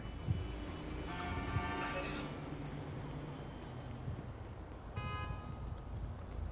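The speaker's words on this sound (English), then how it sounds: "Just don't honk your horn at me." A car horn honks twice in GTA on PS5, each a short, fairly loud tone rising over a steady bed of engine and road noise.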